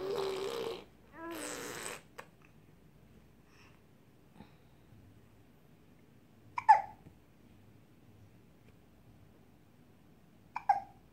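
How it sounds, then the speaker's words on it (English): A baby gives two sharp, isolated hiccups several seconds apart, close and fairly loud, after some earlier squirming sounds and fussing noises, with quiet in between. "She got the hiccups."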